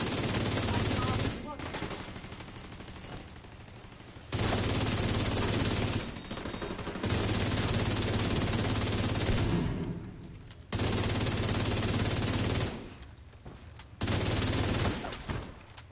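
A video game turret's machine gun fires in long sustained bursts, loud rapid rattling broken by short gaps, repeating four or five times across the stretch with a voice faintly under the fire.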